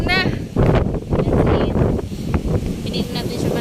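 Strong wind buffets the microphone at a seaside beach picnic, a loud continuous low roar with gusts, while people talk over it throughout.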